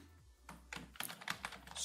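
Computer keyboard typing during a text-editing session: a quick run of separate clicky keystrokes in an irregular rhythm, close and fairly soft, with no talking.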